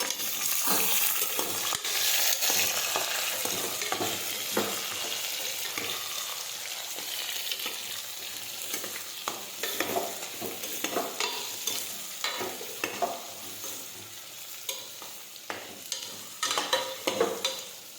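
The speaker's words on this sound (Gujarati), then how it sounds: "હવે આપણે સાતળી દઈશું" Stuffed eggplant sizzles and fries in a pressure cooker while a utensil stirs it, with frequent scraping clicks over a steady hiss throughout.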